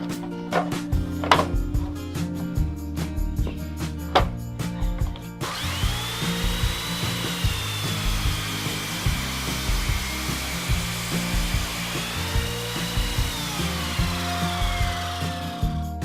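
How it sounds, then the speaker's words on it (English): A small drop saw cuts through big wooden beams, its motor whining steadily after several sharp clunks and knocks, with the blade note rising and falling as it works through the thick timber. "My drop saw is quite a small little saw and it's not really designed for cutting these bigger beams."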